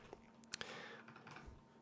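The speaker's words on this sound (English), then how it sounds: "You can start typing." A few quick, quiet keystrokes on a computer keyboard tap out in a short, uneven burst, soft and close in an otherwise quiet room.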